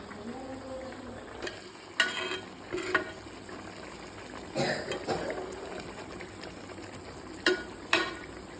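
A whole snakehead fish cooks in a pan with a steady, soft sizzle, broken by a few louder scraping and spooning bursts as liquid is ladled over it.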